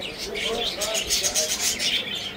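Caged birds, including lovebirds, at a bird market in Baghdad, bright overlapping chirps and tweets in quick repeated bursts, fairly close, over faint crowd murmur.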